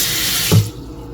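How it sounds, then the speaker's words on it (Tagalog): Tap water gushes steadily into a pot for boiling frozen longaniza sausage, a close, bright splashing rush that stops abruptly partway through. "lalagyan natin ng tubig at pakukuluan natin"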